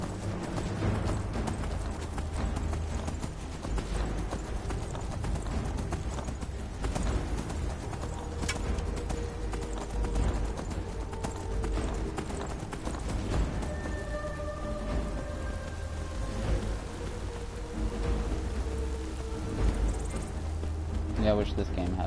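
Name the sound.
stolen horse galloping hooves in Skyrim video game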